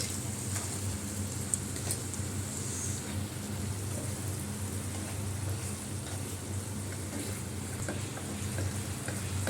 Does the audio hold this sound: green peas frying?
yes